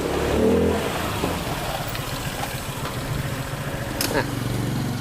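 An automatic PTX motorcycle fitted with a MOSA Racing upgrade kit being ridden, its engine droning and revving steadily at moderate loudness, with a brief rising whine near the end.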